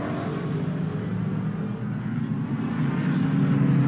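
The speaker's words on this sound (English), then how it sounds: "Listen to these cars as they boom down the very short pit straight." Australian Super Sedan race cars from 1986 at Winton circuit booming down the short pit straight, a loud, steady, heavy engine roar that swells slightly toward the end, with no speech.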